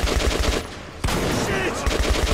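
Dense, continuous gunfire in the post-apocalyptic shooter Metro 2033 Redux, a loud, busy wash of rapid shots and impacts with a sharp crack near the middle.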